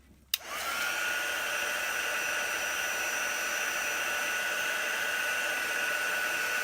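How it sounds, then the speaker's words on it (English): A heat tool drying paint on a chalk craft project blows with a steady, loud whooshing roar that starts after a brief click and holds unbroken to the end, close and alone. "It dries super quick when you add the heat tool to it."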